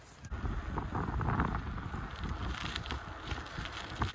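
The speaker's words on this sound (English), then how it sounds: "it's still very windy" Strong wind buffets a lakefront campsite, gusting unevenly and rumbling across the microphone with some light pattering and crackling.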